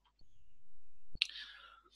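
The F6 key is pressed once on a computer keyboard, making a single sharp click that stands out over a quiet, faint hum, followed by a soft breathy rustle.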